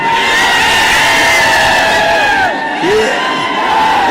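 A large crowd at a Maratha rally in Dharashiv roars with cheers, whoops and shouts, a loud dense mass of voices with a brief dip before surging again.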